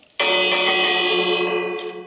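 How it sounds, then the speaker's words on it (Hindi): A bell rung in the video game Minecraft gives a single loud, bright metallic ring that starts abruptly and sustains with rich overtones for nearly two seconds, slowly fading. "घंटी क्यों नहीं बज रही"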